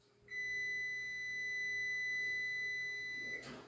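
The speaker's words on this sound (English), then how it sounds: "That's the timer." A kitchen timer sounds one steady, sustained electronic beep lasting about three seconds in a quiet home kitchen where spaghetti pie is being baked, then cuts off abruptly.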